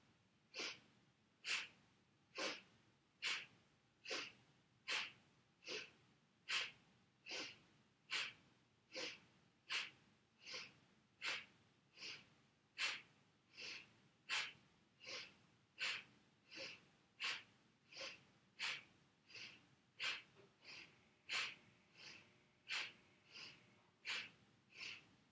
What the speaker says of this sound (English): So the breath is like this. We'll do round one and two together. Inhaling and exhaling.